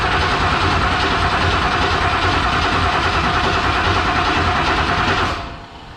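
Mach 1 Mustang engine cranked over on the starter to check oil pressure: a loud, steady, rapid churning for about five seconds that then winds down and stops.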